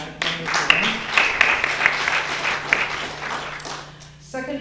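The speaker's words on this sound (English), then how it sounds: "So let's give him a round of applause." Applause from the audience at a sonnet awards ceremony, a dense run of clapping that swells and holds, with a voice starting to speak as it fades at the end.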